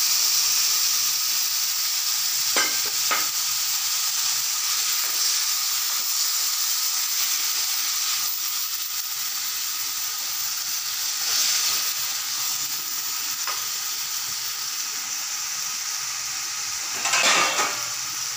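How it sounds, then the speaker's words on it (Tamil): Tamarind water is poured into okra (ladyfinger) frying in a pan, and a steady, close sizzling hiss runs throughout, swelling briefly near the end with a few light clinks and no talking. "இப்போ வந்து கரைச்சி வச்சுக்கிற புளி கரைச்சல் ஊற்றிக்கலாம்."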